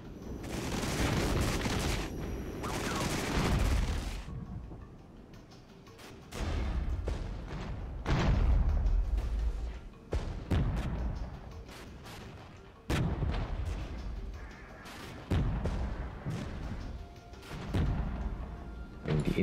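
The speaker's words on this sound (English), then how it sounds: "Deploy artillery that is going to help me immensely." Heavy artillery fire in the strategy game Regiments during a skirmish attack on a runway: repeated loud booming barrages arrive in clusters, separated by brief lulls, with rumbling echoes trailing each volley.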